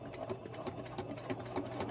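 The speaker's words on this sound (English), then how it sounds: "Now I'm sewing down to the next line for the next button, and I'm back stitching." Sewing machine back stitching the line for a buttonhole, a steady close mechanical whir with rapid needle beats and slight stop-start changes in pace.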